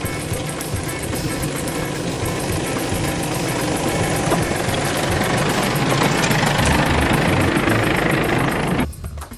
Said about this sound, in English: Climbing up a sandy trail poses no problem for the V-Cross in 4-wheel drive.